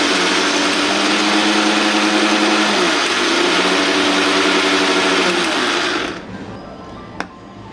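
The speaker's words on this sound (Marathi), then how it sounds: "शेंगदाण्याचं कूट बारीक करून घेऊया आता।" A mixer grinder coarsely grinding roasted peanuts runs with a loud, steady whirring roar for about six seconds, then cuts off and winds down, leaving a faint hum and a small click.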